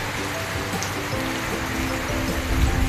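Steady heavy rain pours in a backyard in Valenzuela City during Typhoon Uwan, a dense, continuous hiss with a constant low rumble, close and loud without pause.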